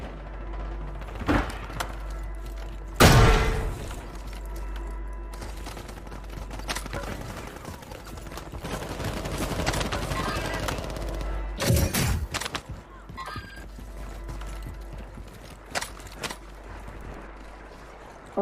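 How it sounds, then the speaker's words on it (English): Gunfire in Call of Duty Warzone is heard as scattered shots and sharp bursts, with two loud, close reports standing out against ongoing battle noise and a few quieter distant pops. "I hear gunshots everywhere."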